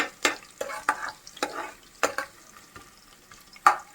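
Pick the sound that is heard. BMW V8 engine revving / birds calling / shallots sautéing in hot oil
shallots sautéing in hot oil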